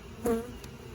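Honeybees around an open, strong hive in an apiary, a brief close buzz swelling past and fading within a second over a faint background hum.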